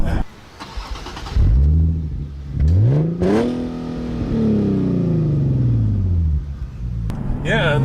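A 2015 Nissan 370Z Nismo sports car accelerating hard at full throttle, its engine climbing in pitch through the revs, dropping on a gear change, then surging again, loud and close from inside the cabin.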